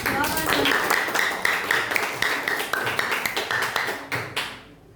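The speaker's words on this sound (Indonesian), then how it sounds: "Ya, berikan aplaus" A classroom group claps in quick, uneven taps that fade out after a few seconds, steady and fairly close.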